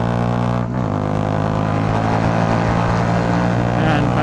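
A Bajaj Dominar 400 motorcycle with an SC Project exhaust revs hard on a night ride, a loud, sustained high-RPM engine note close by, with a brief dip early before climbing again.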